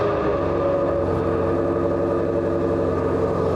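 A loud, steady Ford Mustang GT350R engine rumbles and revs continuously, with a deep exhaust drone throughout.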